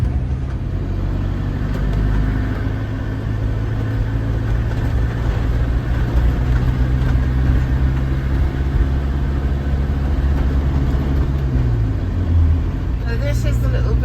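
A car drives along a bumpy country road in Hungary, its engine a steady low hum with constant rumbling road noise close by that shifts slightly in pitch near the end.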